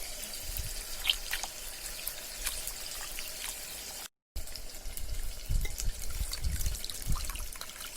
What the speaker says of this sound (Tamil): கரைச்ச புளியை இந்த மாதிரி 2-3 தடவை வடிகட்டி எடுத்துக்கணும்.